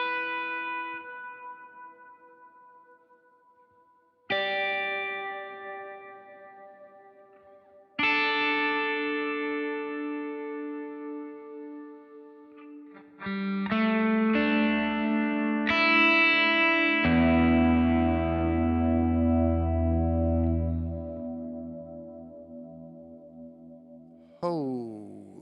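Electric guitar run through an ambient reverb on a Helix with firmware 3.15: sustained chords ring into long, swelling washes, each new strum blooming into a dense, loud tail before fading.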